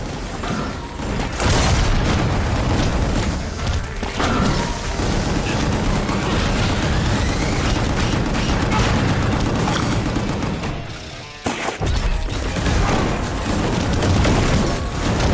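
Loud, chaotic battle from the action game Gungrave GORE, with rocket explosions booming amid continuous gunfire, a dense wall of blasts and shots that barely lets up, briefly cutting out near the end before resuming.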